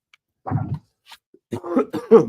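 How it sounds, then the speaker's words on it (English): A few harsh coughs, close and loud, in two bursts separated by a short pause, in a radio studio. "I got a cough"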